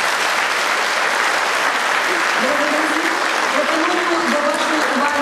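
An audience at a brass band concert applauds, a dense, even wash of many hands clapping at once, loud and sustained with faint voices mixed in among the crowd.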